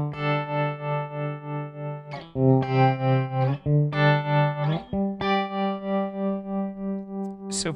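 Electric guitar played through a Matthews Effects Conductor tap-tempo tremolo pedal, sustained chords pulsing in a steady rhythmic throb, close and alone, with a few chord changes along the way.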